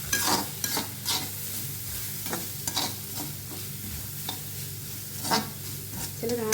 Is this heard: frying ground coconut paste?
yes